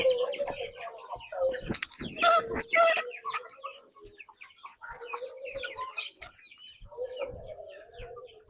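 Country hens and their chicks of one to three months cluck and peep together on a free-range farm, a busy overlapping chatter with some louder calls in the middle, faint voices now and then.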